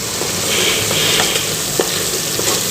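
Masala being stirred as it fries in oil until the oil separates, giving a steady broadband sizzle with scraping spoon strokes and a few sharper clicks, close and fairly loud with no voices.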